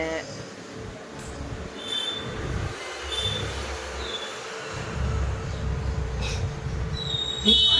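A passenger train rumbles along the tracks with a steady roar, high squeals of the wheels cutting in now and then.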